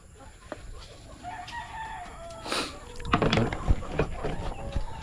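White chickens cluck close by and a rooster crows loudly partway through, over a faint background hum.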